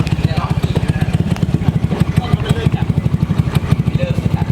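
A Vespa Sprint 150 scooter fitted with a new ECU runs with a steady, rapid low thumping pulse, loud and close throughout.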